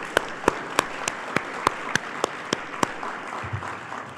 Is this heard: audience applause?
yes